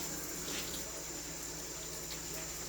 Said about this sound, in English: It's okay to wash your gloves, your hands with your gloves on it.